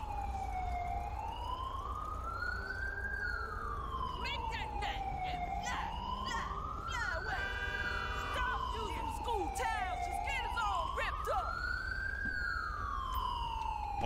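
An ambulance siren wails in a GTA 5 LSPDFR police-mod scene of an airport attack, a slow rising and falling tone that repeats steadily with some sharp electronic whoops mixed in, moderately loud and without voices.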